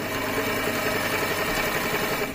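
A HandiQuilter MoxieXL quilting machine stitches slowly through six layers of fabric and two layers of batting, giving a steady, close mechanical whir with a fine rapid needle rhythm throughout, no voices.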